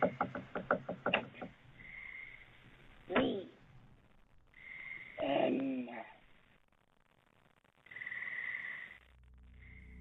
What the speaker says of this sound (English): as they scratch and knock on the back door